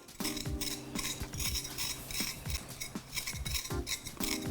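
A paring knife or spoon scrapes the skin off fresh ginger with quick, close, repeated strokes and light metallic clinks.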